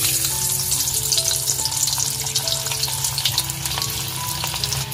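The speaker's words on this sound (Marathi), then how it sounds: "कढईमध्ये तेल घालून घेतलेलं आहे फोडणीसाठी। सर्वात पहिले इकडे आपण लसूण घालतोय" Garlic sizzles loudly in hot oil in a kadhai, a steady crackling hiss with scraping stirs, close up and without any talking.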